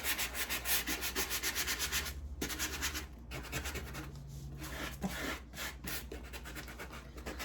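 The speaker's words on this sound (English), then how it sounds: "I just have my sanding block, and like I said, I'm just wanting to just distress it a hair" A hand sanding block rubs rhythmically back and forth over painted furniture to distress it, making a steady, close, gritty scraping with brief pauses.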